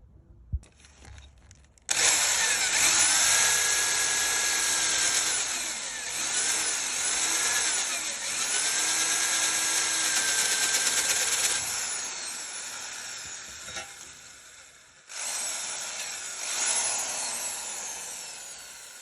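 Electric hand drill boring into AISI 201 stainless steel, a loud, sustained grinding whine with the pitch wavering under load, then a brief pause and a second shorter burst of drilling.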